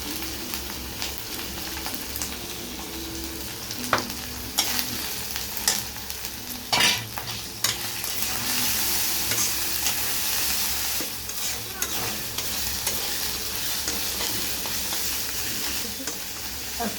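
Ginger-garlic masala paste fries in a pan with a constant close sizzle, while a spoon scrapes and stirs through it in irregular knocks and scrapes.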